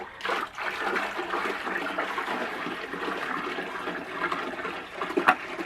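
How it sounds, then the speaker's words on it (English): Water rushes and trickles steadily into a DIY 20 gallon sump, a close, continuous gurgling flow with small splashes and a brief louder splash near the end. "Here we go, more water coming in."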